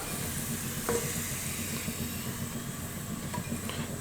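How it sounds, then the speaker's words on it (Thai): Garlic sizzles steadily in hot oil in a wok while stir-frying for Thai rad na with marinated pork, a soft continuous crackle with a couple of light scrapes of a utensil against the pan. "พอน้ำมันมัน ร้อนไปโดนกระเทียมเนี่ย มันจะมีกลิ่นหอมออกมา"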